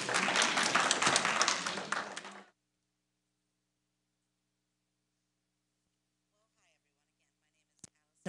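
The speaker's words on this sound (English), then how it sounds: "Please give a round of applause." Audience applause at a workplace lunch-and-learn panel event, a dense burst of clapping for about two seconds that cuts off abruptly into silence, followed by a couple of faint isolated knocks.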